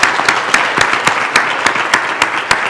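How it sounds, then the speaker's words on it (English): Audience applause for a panel at a nutrition event, a steady wash of many hands clapping with sharper individual claps popping out at a regular pulse, loud and close, no voices over it. "A round of applause for the panel."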